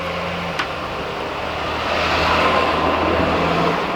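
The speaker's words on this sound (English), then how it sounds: "one FedEx truck, that's not bad" A FedEx truck rolls past nearby, its broad road rumble and tire noise swelling over the last half of the moment after a quieter stretch with a faint low hum, no one talking.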